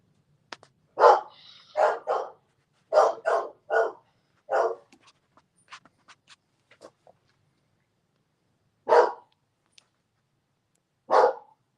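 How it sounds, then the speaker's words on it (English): Several dogs barking in short loud bursts, clustered early and then spaced out with single barks, no talk. "My dogs are barking like a son of a bitch."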